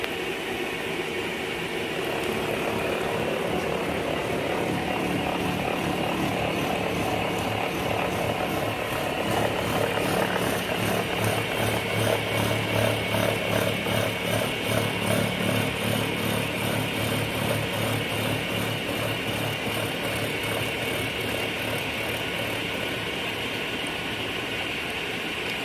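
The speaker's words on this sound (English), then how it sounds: "You can switch on the machine." A milling machine with a dividing head cuts a helical gear, giving a steady loud mechanical hum with a faint rhythmic chatter that runs throughout without a break.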